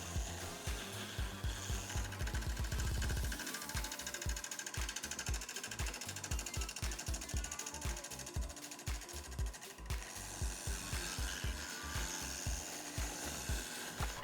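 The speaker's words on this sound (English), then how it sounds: "I use Rockler's full-size square radius carbide turning tool to slowly get the blank round and balanced." A wood lathe spins a bowl blank while a square radius carbide turning tool works it round, giving a loud, rapid rhythmic chattering knock that holds steady throughout at close range.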